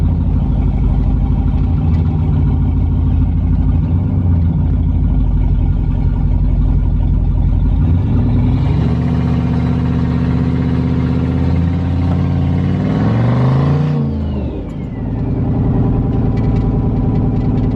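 A GMC Envoy engine with a newly built exhaust idles with a mid-pitched whir, then revs up loudly and drops back, the exhaust rumbling close by.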